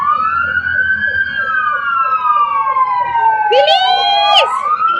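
A fire truck siren wails loudly and continuously in long rising and falling sweeps, with a second siren tone overlapping near the end, as fire engines arrive at a fire on Kalayaan Avenue, Pitogo, Taguig.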